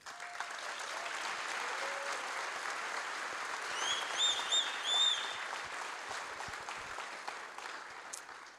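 Audience at the Native Hawaiian Convention applauds to welcome a panel, sustained even clapping filling the room for several seconds, with a few faint whoops and whistles midway.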